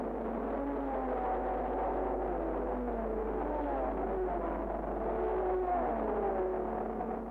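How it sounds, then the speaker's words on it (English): A racing car engine at the 1959 Le Mans 24 hours, a muffled, steady mechanical drone with whining tones that slowly rise and fall in pitch, continuous and without any voices. "the Berre-Gurney Ferrari was having electrical trouble, slowing the car and reducing it to just one headlight"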